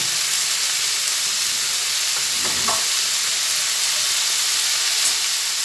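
Vegetables with tomatoes and a pinch of cumin powder fry in a pan, making a steady hissing sizzle throughout, broken by a brief clatter of stirring near the middle.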